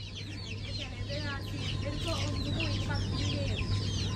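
Chickens at a poultry shop cluck and chatter continuously nearby, many overlapping short calls over a steady low hum, with people talking faintly in the background.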